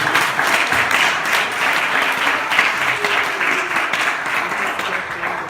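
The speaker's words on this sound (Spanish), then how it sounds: "Dale un aplauso a Rey de Reyes, que se lo merece" A church congregation gives warm, dense applause during a worship service, many hands clapping steadily and close by, with a faint murmur of voices underneath.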